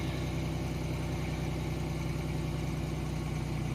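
A 1990 Chevrolet Lumina with a 3.1 V6 idles steadily just after a cold start, a constant low droning hum close by with no change in pitch and no talking.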